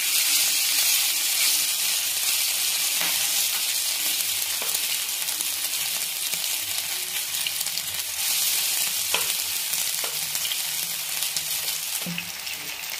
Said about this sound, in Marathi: हे तेल छान गरम झालेलं आहे, तर याच्यामध्ये आता हे पीस सोडून देते मी